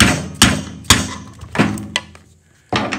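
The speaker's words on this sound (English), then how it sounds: "We just put a bolt inside so that you're pounding on the outside of the race." Metal hammer blows drive bearings into a Mohawk closing wheel half, struck through a bolt against the outer race: about five sharp, loud impacts at uneven intervals, each with a short ringing decay, close up.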